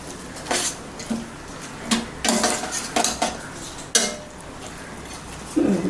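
A metal spoon stirs chopped onion and chicken in a pan for a home-cooked chicken thoran, giving irregular close clanks and scrapes against the pan with quiet gaps between strokes.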